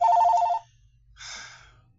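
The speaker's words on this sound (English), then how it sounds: "I'm gonna unplug my phone because I know what this phone call." A telephone rings in two electronic bursts, the first loud and bright and the second a little softer, separated by a short quiet gap.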